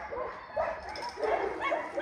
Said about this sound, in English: We got one that's wanting to bark, but most of them calmed down now.